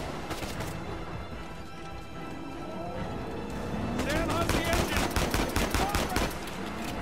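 Rapid gunfire from the video game Uncharted 4, bursts of sharp automatic shots growing louder and denser in the second half over game ambience, with a voice talking over the action.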